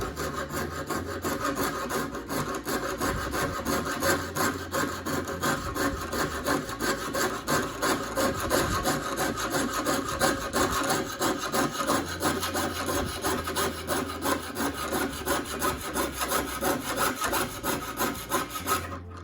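Hand saw blade cutting copper sheet metal in steady up-and-down strokes, a continuous close rasping and scraping that runs unbroken for the whole stretch, with no voices.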